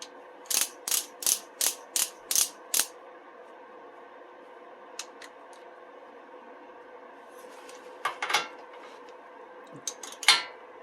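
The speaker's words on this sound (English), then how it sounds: "Let's use a torque wrench." A torque wrench ratchets on a Mercedes W211 control arm bolt, giving a quick run of about eight sharp, close clicks, then a quiet pause and a few scattered clicks and metallic handling sounds near the end, with no talking.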